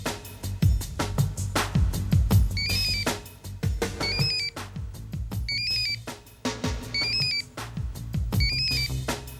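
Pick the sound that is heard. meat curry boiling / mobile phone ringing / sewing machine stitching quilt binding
mobile phone ringing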